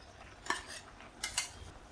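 A spoon clinks twice against a pot while avial is stirred after a ground paste of coconut, green chili and cumin is added; the clinks are quiet and close over a faint background.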